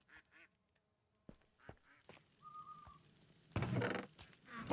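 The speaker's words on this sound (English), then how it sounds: "I have too many ducks." Ducks quack in a modded Minecraft game: a few quiet, clipped quacks near the start, then scattered game clicks and a louder rush of noise toward the end, with no talking.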